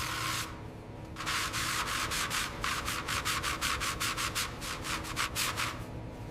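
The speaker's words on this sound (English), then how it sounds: "I'm just feathering this out now, refining the contours until the reflections run clean across the surface" Hand sanding of car bodywork on a 1941 Lincoln Continental, rhythmic back-and-forth rasping strokes, slow at first then quickening into a steady fast series, close and clear over a faint background hum, no talk.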